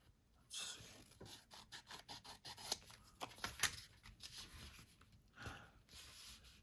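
Scissors snip through a paper daisy print for a journal cover in a run of quiet, close, rapid crisp cuts and rustles, some louder than others, with no talk.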